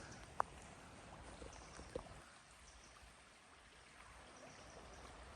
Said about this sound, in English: That's the river Avon.